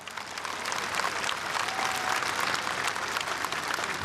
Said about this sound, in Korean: 힘찬 박수로 또 격려 부탁드리겠습니다